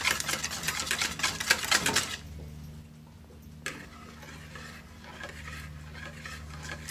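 Rapid rhythmic clicking of a whisk against a bowl as egg yolks are beaten smooth for a Japanese jiggly cake, fast and busy for two seconds, then a pause and quieter scattered taps.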